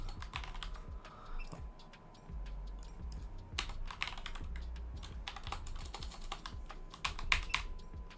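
Rapid typing on a computer keyboard with a worn-out W key, steady clusters of close, crisp key clicks continuing throughout with no talking.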